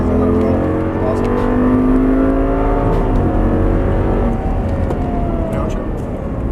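Audi R8 on a race track, its engine note rising steadily as it accelerates, loud and close with a strong low rumble and climbing harmonics, while a voice talks over it.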